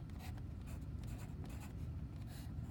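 A pen writes fractions by hand on paper as a math problem is worked out, giving soft, close scratching strokes in short bursts with brief pauses between them.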